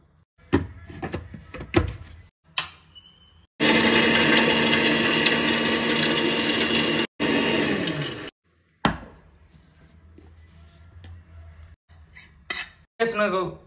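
A kitchen mixer grinder pulverises almonds, cashews, cardamom and shahi jeera in a loud, harsh whirring roar. It runs for about four seconds, pauses briefly, then runs again for a shorter burst, with utensils clinking before and after.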